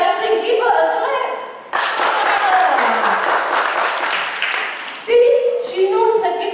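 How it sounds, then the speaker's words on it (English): Clapping breaks out for a child at a church children's session, broad and steady for a few seconds between a woman's speech before and after, with voices carrying over it. "Give her a clap."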